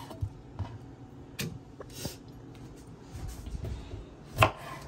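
A knife chops onion on a cutting board for Jamaican seasoning, giving a few sparse, irregular close taps and knocks at low level in a quiet kitchen, with one sharper louder knock near the end.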